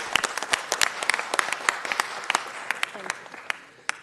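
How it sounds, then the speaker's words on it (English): A city council meeting crowd gives a round of applause, dense crisp clapping that stays loud and then gradually thins and fades toward the end. "Can we give these great men and women another round of applause?"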